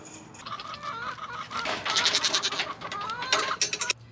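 Dairy goats bleat repeatedly in a barn, several overlapping calls of varying pitch close by, with occasional rustling and clatter.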